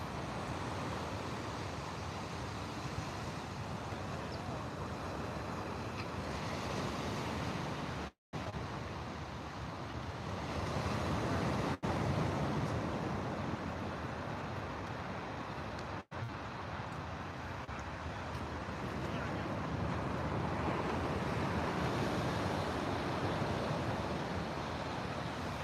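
Steady ocean surf at a beach heard from a nearby coastal trail, a broad continuous wash of breaking waves with wind over the microphone, fairly loud and unbroken apart from a couple of brief dropouts.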